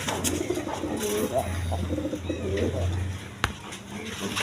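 A male Bombay pigeon coos in low, repeated throaty pulses close by, with faint background noise and a sharp click near the end.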